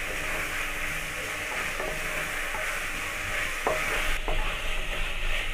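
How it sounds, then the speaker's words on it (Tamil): Cut beans and carrots with salt being sautéed in a pan, a continuous soft sizzle with occasional stirring scrapes and clinks, close and fairly quiet. "சேர்த்துட்டு ஒரு 2 நிமிஷம் நல்லா வதக்கிக்குங்க."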